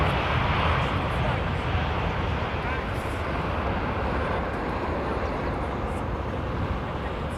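A passenger jet landing at London Heathrow into a direct headwind, its broad engine roar steady and loud throughout, with a voice talking over it.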